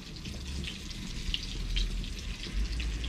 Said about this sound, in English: I'm going to put the bacon in. Two slices of lovely Maltese bacon.